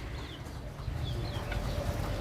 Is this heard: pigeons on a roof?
yes